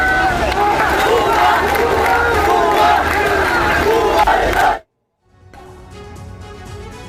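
An armed mob roars and shouts loudly in a dense, continuous crowd clamor during an attack, then cuts to brief silence before a quieter crowd murmur resumes.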